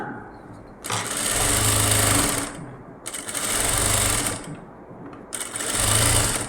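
An electric sewing machine stitching a synthetic lining blouse runs in three loud, close bursts of rapid whirring, with short pauses between runs.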